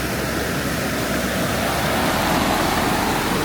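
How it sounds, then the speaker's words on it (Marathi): A mountain stream near the base of Shitkada waterfall rushes steadily with a broad, loud, unbroken roar and no distinct splashes. No one is talking. "माझ्या समोर हा ओढा लागला आहे"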